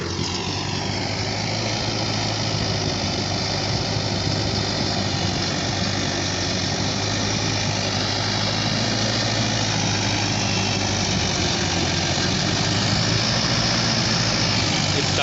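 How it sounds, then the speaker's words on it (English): A tractor plowing a field for rice planting drones loudly and continuously nearby, a deep rumbling motor with a constant low throb and no pauses. "the tractor been plowing the land"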